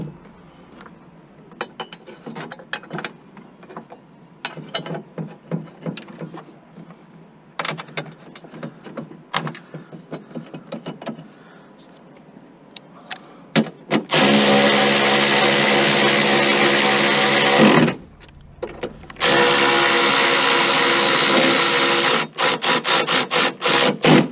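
Screws are driven back into a Hummer H2 air filter housing with a power tool, sparse ratcheting clicks at first, then two long steady whirring runs of the driver separated by a short pause, ending in a few quick bursts.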